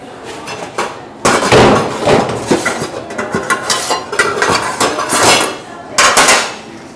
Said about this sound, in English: So I'm gonna grab a saucepan.